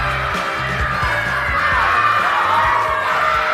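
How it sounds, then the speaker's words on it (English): A loud, raucous crowd cheers steadily at a Green Bay Packers home venue, a dense continuous roar with a rhythmic thumping beat running underneath. "We've got a very loud and raucous crowd"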